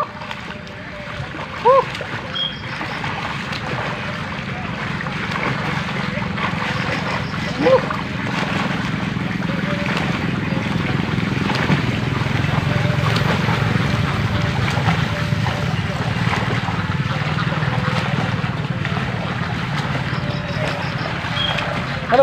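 Steady water churning and splashing while swimming against a strong current in the Malang river, a continuous rushing wash with occasional louder splashes, near and loud throughout.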